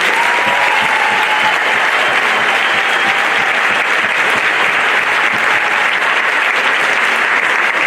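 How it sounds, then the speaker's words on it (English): An audience at a townwide band festival applauds the graduating band seniors with dense, sustained clapping that stays loud and even from start to finish, with no voices over it. "Give them a round of applause."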